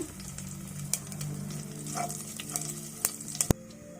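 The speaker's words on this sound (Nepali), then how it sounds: "अनि यो तेजपत्ता, ल्वाङ, इलाइची, जिरालाई चाहिँ एड गरेर यहाँ फ्राई गर्दैछु।" Bay leaf, cloves, cardamom and cumin fry in hot oil for an egg curry, giving a soft, steady close sizzle with a few light clicks and taps of stirring.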